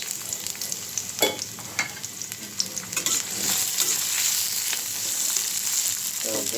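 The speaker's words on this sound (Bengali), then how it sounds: "তো পেঁয়াজটা আমি হালকাভাবে একটু ভেজে নেব।" Onion and green chillies frying in oil in a pan, a close hissing sizzle with a few stirring scrapes early on, then a steadier, denser fry, no voices.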